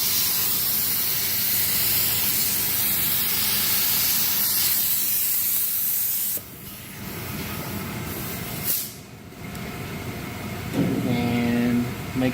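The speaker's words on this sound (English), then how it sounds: "now we'll spray our activator" A loud, continuous hissing spray of activator liquid in carbon hydro-dipping work runs steadily, then cuts off abruptly, followed by quieter bursts and a brief tonal hum.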